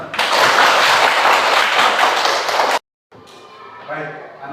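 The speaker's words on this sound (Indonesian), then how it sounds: "Mari kita tepuk tangan." A class of schoolchildren claps their hands in dense, steady applause for almost three seconds. The clapping stops abruptly and is followed by a brief silence, then quieter room sounds and talk.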